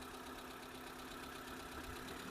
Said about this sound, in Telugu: ఇంజన్ బీటింగ్ చూడండి, చాలా సైలెంట్గా ఉందండి